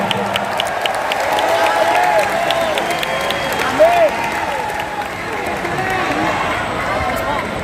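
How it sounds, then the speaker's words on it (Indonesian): A large crowd of volunteers at an Indonesian political rally claps and cheers for a party chairman, a broad roar of hands and voices spread across the space, with whistles and shouts rising briefly above the continuous din. "Beri tepuk tangan Mas Ahaye."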